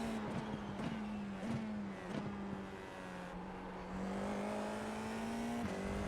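An FIA F4 race car around Fuji GP in a racing sim, its engine droning steadily under throttle with small pitch dips at gear changes before climbing again toward the end of the stretch.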